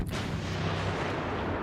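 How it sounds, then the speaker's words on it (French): A large explosion in a Star Wars video game starts with a sharp, loud blast and then rolls into a thick, sustained rumble that fills the whole moment with heavy low-end roar. "Une grosse explosion, à ce que je vois."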